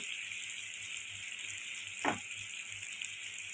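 Fish roe fries in a pan for a Bengali roe curry, giving a soft, steady, close sizzle with a faint bubbling undertone and one brief scrape or stir midway.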